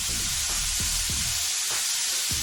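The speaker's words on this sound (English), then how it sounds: "I don't know if you heard the difference in the sound and the oil when I put the other piece of fish in" Pieces of fish fry in hot oil, a steady dense sizzle with bubbling crackles running throughout, close and fairly quiet.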